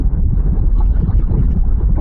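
Strong wind buffets the microphone while riding a motorbike on an open road, a loud, low, gusting rumble that pulses and swells throughout, with no other sound standing out.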